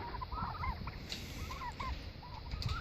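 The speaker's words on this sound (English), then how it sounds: "The turkeys run out here during the day with him" Turkeys gobble repeatedly in a pen shared with a goat buck, a cluster of short warbling calls rising and falling at moderate distance over steady outdoor background noise.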